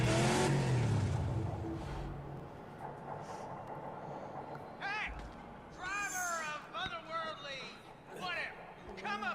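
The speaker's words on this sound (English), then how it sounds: "Sounds like a V8, but it's a V6." A V6 car engine in an Australian driving simulator game revs loudly and rises at the start, then sinks into a low drone as someone talks over it.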